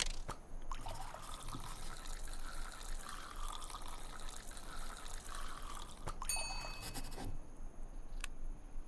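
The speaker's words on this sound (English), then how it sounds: "Okay, pour 1 ounce of cider." Cider, one ounce, pours into a bar glass in a saloon bartending game, a close trickling stream lasting several seconds that ends in a few light clinks.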